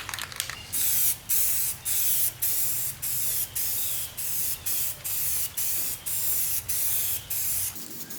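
A spray paint can hisses in a run of short, rhythmic spray bursts, about a dozen quick pulses with brief pauses between them, close up.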